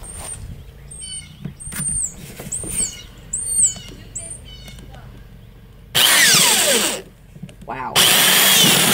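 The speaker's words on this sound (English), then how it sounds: "And I'm using a 5/16 drill bit." A power drill boring with a 5/16 bit, two loud close bursts of high whining drilling near the end, preceded by someone talking and scattered handling clicks.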